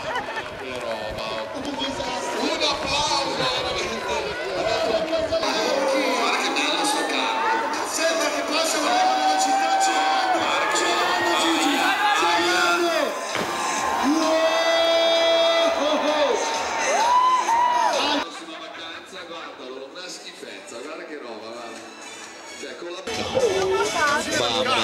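Crowd at a pond-skimming contest, an outdoor winter festival event, cheering, whooping and shouting loudly and continuously over music and a commentator's voice, dropping back briefly before surging again.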